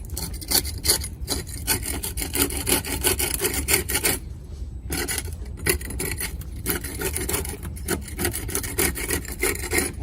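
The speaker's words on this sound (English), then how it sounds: "And we're just gonna scrape it out." Scraping out blistered, moisture-damaged stucco on a wall with a hand tool, a continuous gritty rasping that runs almost the whole time with brief pauses, close and fairly loud, with no talking.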